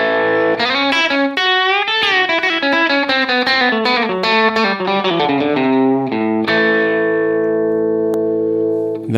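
Electric guitar running through an Eventide H9 and a Line6 Helix preset with added drive, playing a run of sustained, slightly overdriven notes and chords that ends on a long ringing chord, loud and alone.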